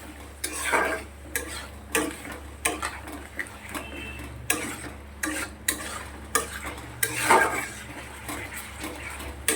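Masala being stir-fried in oil for a katla fish curry, with repeated scraping and knocking strokes of a spatula in the pan in an irregular rhythm over a soft background sizzle.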